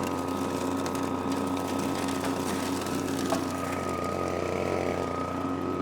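A gold prospecting vacuum machine running in a semi-damp desert wash, a steady, moderately faint engine drone with a constant hum and light rattle throughout, no talk.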